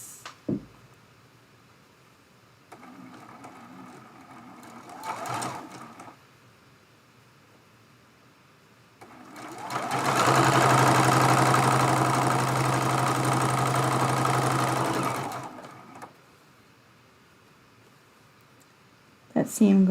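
A sewing machine stitches the third row of a Dresden Plate quilt block made from charm packs, running as one loud, steady whirring burst of about six seconds. Quieter handling noises and faint talk come before it.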